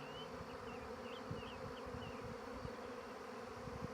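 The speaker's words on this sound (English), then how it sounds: "I don't know if you can see all the bees or you can hear it, but it's pretty loud." Dense, loud buzzing of a honeybee swarm waiting for its queen to land, a steady close-up drone of countless wings holding at an even level throughout, with no voices.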